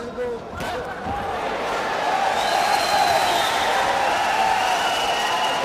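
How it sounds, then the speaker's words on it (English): Crowd cheering at a World Series of Boxing bout between the Indian Tigers and Astana Arlans, a broad roar of voices and shouts that builds and stays loud, with whistles and thuds within it. "The crowd cheering"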